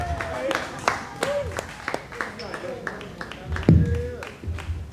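Studio audience applause during a stand-up comedy simulator stream, scattered claps with sharp individual hits over a murmur, a louder burst near the end, mixed with speech.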